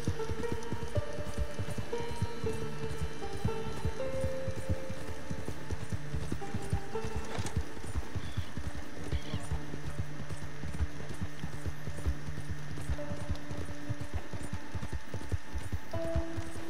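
Steady clip-clop of horse hooves at a walking pace in Red Dead Redemption 2, close and continuous, with a brief whinny partway through over a busy game background of music and ambience.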